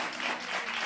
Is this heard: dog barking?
no